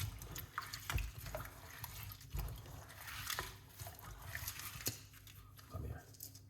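Cerasee leaves being washed by hand in a basin of water, with close, irregular splashes and sloshing bursts, soft drips and brief swirls continuing throughout.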